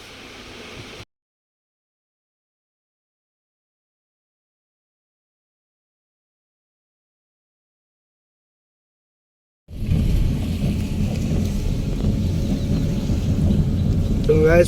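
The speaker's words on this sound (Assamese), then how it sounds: "এইপিনে বৰষুণ দি আছে" Heavy rain with a low thunder rumble close by outside a Maha Mrityunjay temple, loud and steady, arriving after a long stretch of near silence that follows a short burst of rain at the start.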